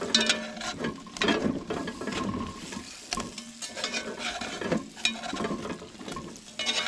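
Utensil stirring a thick, sticky homemade rabbit gravy in a pan on an off-grid cooking setup, a steady run of scraping, clicking strokes over a faint sizzle, close and fairly quiet.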